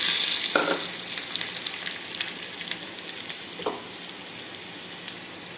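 Cashews fry in ghee with ginger and green chili for a tempering, giving a crackling sizzle with two louder scraping stirs over a steady hiss.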